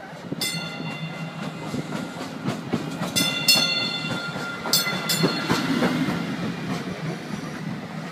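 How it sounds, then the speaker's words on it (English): A DART Blue Line commuter train rolls into a Dallas-area station, with steady rumble, clickety-clack of wheels over rail joints, and a few brief high tonal squeals or horn bursts over several seconds. "As more trains arrived"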